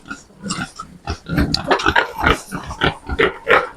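Six-month-old pigs, boars and sows, grunt and snort continuously up close, a busy overlapping chorus of low, rough grunts with occasional higher squeals.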